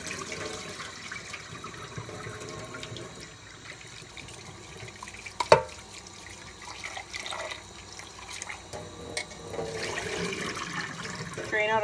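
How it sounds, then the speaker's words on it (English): Basa fish fillets are rinsed in a bowl of water in a kitchen: soft sloshing and swirling, a sharp knock partway through, then a louder pour as the water is emptied out. "You're just going to empty out that water, put in some fresh, give it a good swirl"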